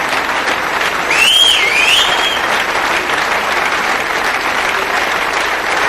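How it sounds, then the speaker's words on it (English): A crowd at the 1999 WEPF men's pool final applauds in a dense, continuous wash of clapping that swells slightly, with a few whistles near the start. "The crowd applauds,"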